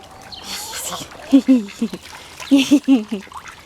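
Ducks at a backyard pond give clusters of short, nasal quacks in quick bursts, fairly close and loud, with a person speaking nearby and faint background noise.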